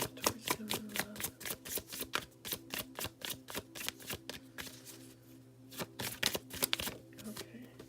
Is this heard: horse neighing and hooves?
no